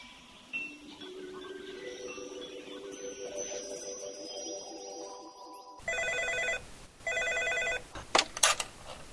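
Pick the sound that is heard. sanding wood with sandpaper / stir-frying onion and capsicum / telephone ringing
telephone ringing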